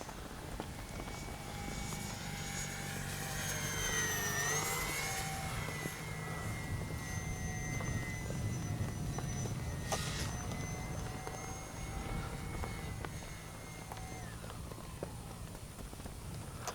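An FMS PC-21 Pilatus RC jet flies overhead, its steady electric ducted-fan whine loud and continuous throughout, with pitch sweeping up and down as it passes and maneuvers.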